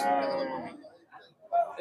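A crossbred Sahiwal cow moos once, long and low, then a brief fainter call follows near the end.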